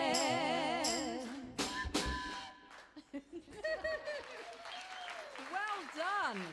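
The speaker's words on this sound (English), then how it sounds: "All of you at home, clap hands." A band's audience claps along loosely in rhythm, the scattered hand claps rising and falling between sung, sustained musical notes that dominate the mix.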